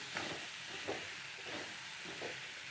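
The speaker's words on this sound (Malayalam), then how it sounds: "അതൊന്ന് ചെറുതായി വഴറ്റിയെടുക്കുക" Carrot and chopped beans sautéing in a pan give a quiet, steady sizzle, with a few soft stirring scrapes over about three seconds.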